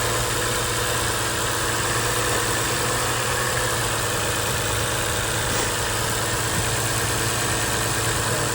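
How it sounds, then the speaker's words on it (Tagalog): A 2017 Toyota Sienna engine idles while warming up, a steady, even hum with a constant low rumble and broad mechanical noise, close and continuous with no talking. "Antayin natin na mag-warm yung kanyang makina."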